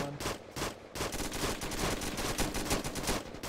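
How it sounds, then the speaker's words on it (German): Heavy gunfire in a combat game, rapid overlapping bursts of automatic fire and shots cracking continuously, loud and dense for several seconds. "Spirit ist unter Beschuss. Und zwar heftigst."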